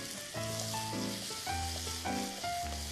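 Onion and carrot stir-fry in a pan, sizzling steadily at close range. Bursts of louder frying and tossing recur every half second or so, with no voices.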